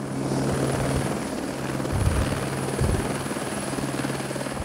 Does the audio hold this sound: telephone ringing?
no